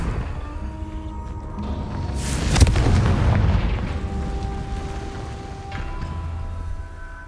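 Confringo fire-blast spell in Hogwarts Legacy on Xbox Series X: one heavy booming explosion bursts out of a steady game ambience and then rumbles and fades over a few seconds, with no voices.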